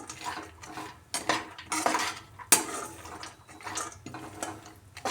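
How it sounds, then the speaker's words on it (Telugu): Ingredients for healthy laddus roast in a pan over a low flame, a spoon scraping and clinking against the metal in irregular bursts, close and moderately quiet. "లో ఫ్లేమ్లో మనము వేగించాలి"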